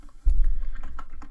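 Quick keystrokes clack on a computer keyboard in a short run, close and fairly soft, with a low thump at the start.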